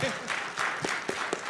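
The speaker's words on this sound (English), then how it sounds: "Give John a round of applause." Audience applause at an ICCE2023 conference talk, a brief, fairly faint patter of clapping with a few sharper claps standing out.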